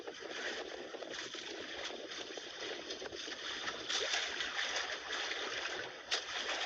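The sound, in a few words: strong water current around a boat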